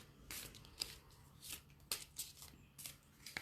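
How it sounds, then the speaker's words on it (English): Tarot cards are shuffled and drawn by hand at a reading, heard as soft, close, quiet riffling and flicking with a few sharp snaps scattered across a few seconds. "Pandora, I'll pull out a card for you."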